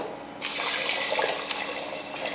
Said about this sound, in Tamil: நல்லா தாராளமாக தண்ணி ஊற்றிக்கணும்